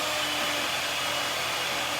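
Steady, loud whirring drone of an electric hand mixer beating cupcake batter with cinnamon, continuous and unbroken with no voices over it.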